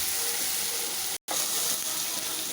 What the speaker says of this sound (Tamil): இது நல்லா கோல்டு கலர் ஆகிற வரைக்கும் நம்ம நல்லா வதக்கிக்கலாம்.